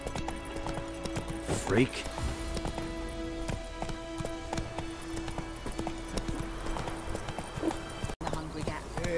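Horse hooves clip-clop at a gallop over ground in The Witcher 3, with a whinny and a spoken voice over a steady rhythmic patter.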